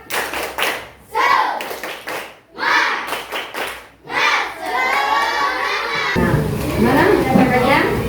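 A group of schoolchildren in a classroom does a 'tepuk semangat' clapping cheer, rhythmic with chanted voices, bursts of clapping separated by short pauses, then sustained loud group clapping and shouting.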